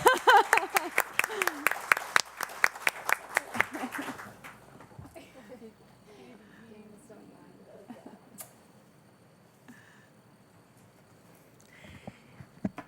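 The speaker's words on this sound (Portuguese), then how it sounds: "Gente, mais palmas para ela" At a seminar on consensual dispute resolution methods, the room gives a few seconds of brisk, rhythmic clapping that trails off into scattered faint sounds and near quiet.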